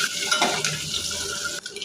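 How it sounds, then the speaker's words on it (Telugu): Eggs with turmeric frying in about four spoons of oil in a pan until lightly browned: a steady, close sizzling hiss with occasional scraping and clinks of a utensil stirring, briefly dipping near the end, with no voices. "పసుపు, గుడ్లు వేపుకోవాలి."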